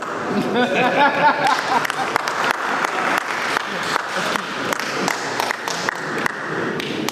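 An audience at a company ceremony applauds with steady, dense clapping from many hands, while voices talk over it at the start.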